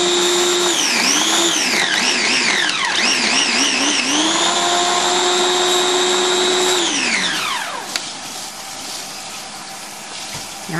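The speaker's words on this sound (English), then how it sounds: "He's going to set it up, push the button, and grind the cookie crumbs up." An electric kitchen grinder or blender whirs loudly, grinding cookies into crumbs for a dirt cake, its pitch rising and falling as the load shifts before the motor winds down and stops.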